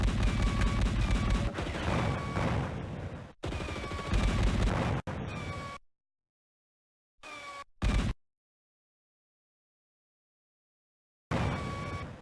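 Gunfire in the video game Cyberia, loud dense bursts of shots in several separate stretches broken by sudden silent gaps.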